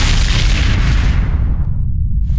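Mortar shell explosions in a video game trailer: a loud, sustained booming blast with heavy low rumble that fades over a couple of seconds, no voices.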